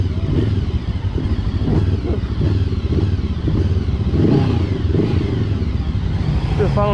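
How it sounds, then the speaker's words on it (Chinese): The Hanway YP500 motorcycle runs in gear, its engine and exhaust a loud, steady, rough drone close by, with a slight clattering edge throughout. "排气的声音"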